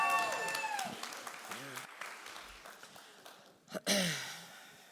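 An audience gives a short round of applause after someone speaks, with a burst of clapping near the end.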